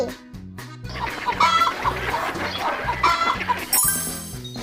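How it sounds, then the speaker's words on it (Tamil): A hen clucks in short bursts over a steady, rhythmic musical beat. "கோழி."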